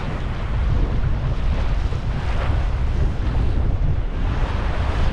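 Wind buffeting and wave wash while sailing a yacht under full sail in Moreton Bay in about 15 knots, a steady, loud broadband rush that holds without break for the whole stretch, with no talk.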